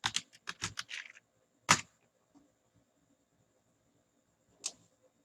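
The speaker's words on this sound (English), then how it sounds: "So I'm going to type show databases." A computer keyboard is typed on while entering a database command during a MySQL installation: a quick burst of clicky keystrokes for about a second, a sharp keypress after it, then quiet before a final isolated tap.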